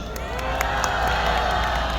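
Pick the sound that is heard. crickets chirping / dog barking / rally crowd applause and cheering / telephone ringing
rally crowd applause and cheering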